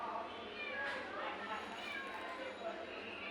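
A cat meows a few times outside, faint and distant, partly masked by a person talking nearby and general background noise.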